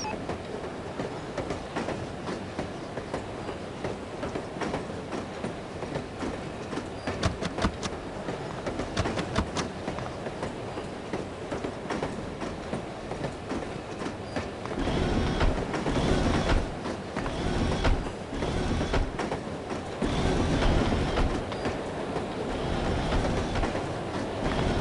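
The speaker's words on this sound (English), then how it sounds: "I love riding the train." Train ride in the No One Lives Forever video game: a continuous rolling rumble with clickety-clack wheel rhythm, growing busier and louder after the midpoint with bursts of rattling carriage noise.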